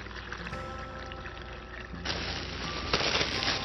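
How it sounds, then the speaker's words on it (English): Turkey brine is poured into a bag in a kitchen, a steady wet rush under a low background hum that swells louder and fuller about halfway through. "pour the brine over it"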